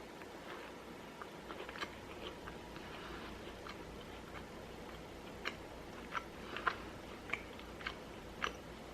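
Soft crunchy chewing and biting on a homemade vegan macaron, a series of small crisp clicks over a quiet close-up background, with no talking.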